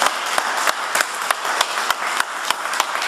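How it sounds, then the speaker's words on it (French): An audience at a cooking demonstration applauds in a short, steady burst of clapping, with a few sharper individual claps standing out at a regular beat. "Je vous propose d'applaudir Frédéric Jonot et Marco Schneider."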